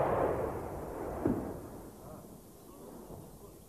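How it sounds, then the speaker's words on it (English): Serbian artillery pounds a Bosnian mountain bunker in wartime: a dull, muffled heavy thud lands partway through a dense, noisy rumble, with the roar fading slightly afterward. "Bosnian soldiers scrambled for their lives from a mountain bunker as Serbian artillery began to pound them"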